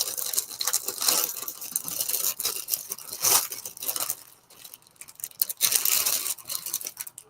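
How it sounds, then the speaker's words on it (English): Clear plastic yarn packaging crinkles and crackles in irregular bursts close by, handled continuously with brief softer lulls, no talking. "Pardon the crinkling noise."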